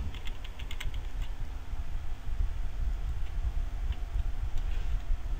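Soft, rapid clicking of typing on a computer keyboard, with little bursts of keystrokes over a steady low background hum, fairly quiet and without talking.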